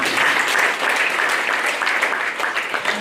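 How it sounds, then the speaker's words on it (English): Audience applause fills a conference hall at the Hansard Association of Kenya annual conference, a steady, dense wash of clapping that stays loud and even throughout, with faint voices mixed underneath. "Let's have a round of applause for the entire."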